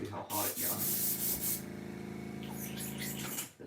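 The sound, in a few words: air compressor blowing air onto a freshly heat-treated crankbait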